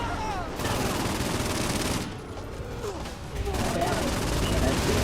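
Continuous bursts of gunfire from Saints Row IV, a dense rattling fusillade with booms mixed in, loud throughout with a short dip in the middle, while voices talk over the shooting.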